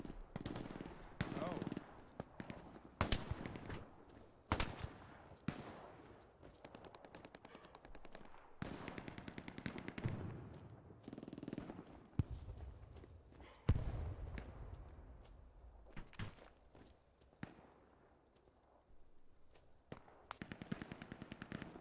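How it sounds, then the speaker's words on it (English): Gunfire in Hell Let Loose: rapid machine-gun bursts and sharp rifle shots crack at close and middle distance. Irregular volleys stop and start again over about twenty seconds. "Some guy's shooting me, I think"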